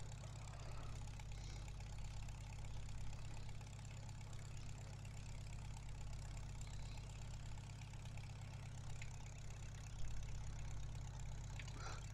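A tractor's engine idles in a farming simulator game, a steady low rumble that holds evenly throughout with no talk over it.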